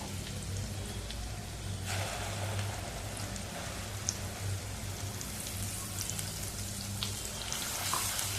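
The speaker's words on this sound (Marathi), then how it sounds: "सगळा मसाला चांगला तेलावरती परतवून घेऊया" Ground masala with fresh coriander sautéing in hot oil for a traditional Marathi drumstick-pod rassa curry, giving a steady, even sizzle and hiss that runs unbroken throughout.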